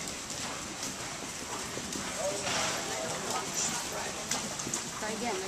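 Horses canter around a show ring, their hooves clip-clopping in a steady, busy rhythm at moderate distance, with a voice calling out over the hoofbeats now and then.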